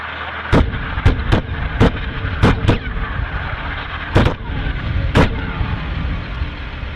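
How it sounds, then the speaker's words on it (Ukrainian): A GBU-32 JDAM, a thousand-pound Mk-83 bomb, striking a Taliban camp: a string of sharp, loud blasts and booms at uneven intervals over a steady rumbling background, with no talk. "На цьому відео талібський табір зрівняно з землею бомбою GBU-32 JDEM."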